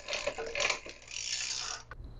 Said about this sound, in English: We're going to shift this down to the